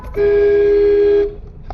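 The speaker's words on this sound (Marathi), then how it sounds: "Horn they rickshaw, horn they." A single steady auto rickshaw horn honk, loud and close, held for about a second before cutting off to quiet background noise.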